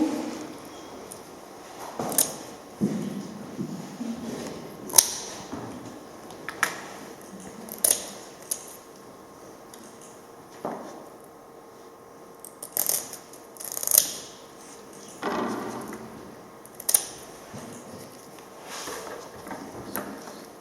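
Fins being snipped off a pike on a kitchen worktable, heard as a series of short, close crisp cuts and clicks spaced a few seconds apart over a quiet background, with no talking.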